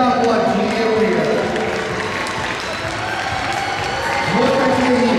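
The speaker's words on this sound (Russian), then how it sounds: "А публика аплодирует" Audience clapping continuously for a children's dance performance at an awards finale, a broad sustained applause from a crowd filling the hall, with a woman announcing over it and music faintly underneath.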